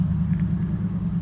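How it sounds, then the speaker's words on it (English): Outdoor road traffic noise, a loud, steady low rumble of a passing car close by, continuous across the short stretch with no talk. "I apologize for the noise, traffic, lawn mowing,"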